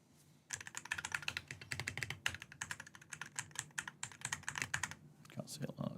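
Rapid typing on a Hitscan Hyperlight mechanical keyboard: dense, crisp clacking keystrokes close by, running in quick uneven bursts after a brief quiet start.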